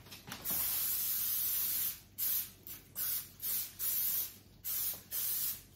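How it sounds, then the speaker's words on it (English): Cooking spray hisses onto a baking pan in a home kitchen: one long continuous burst, then a series of five or six short, evenly spaced spritzes, loud and close. "I'm gonna go ahead and spray this pan."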